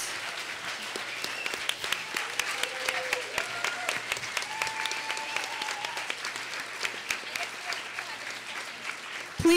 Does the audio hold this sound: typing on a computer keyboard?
no